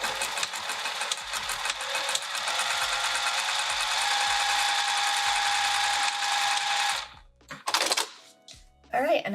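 A sewing machine runs steadily for several seconds, stitching down the side of a fabric roll-up wrap, then stops, followed by short bursts of handling noise.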